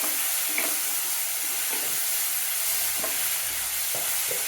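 Onions and tomatoes sautéing with salt in a pan, a continuous close sizzle with intermittent scrapes and taps of a spoon stirring through the mixture.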